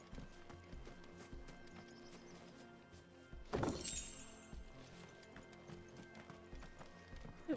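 Chocobo footsteps in Final Fantasy XVI sound as clip-clop steps under a light in-game ambience, joined midway by a brief loud crashing burst before the steps carry on.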